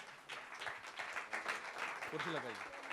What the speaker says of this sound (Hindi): Guys, a huge round of applause,